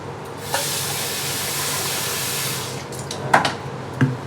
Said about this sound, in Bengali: এই যে আম ভীষণ ভালো গাছ পাকা আম তো ধোবো আগে